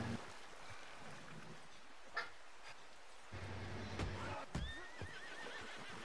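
A horse in the video game Red Dead Redemption 2 Online whinnies with a wavering, rising call near the end, amid soft hoof clops, light rustling and an outdoor ambience.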